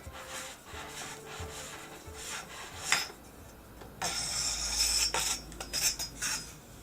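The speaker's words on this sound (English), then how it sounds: "This shroud actually just unscrews here. Very, very easy to remove. Just unthreads." The threaded barrel shroud of an air rifle being unscrewed by hand gives soft, close metallic scraping and rubbing, with a few light clicks and taps, quiet and intermittent, with no voices.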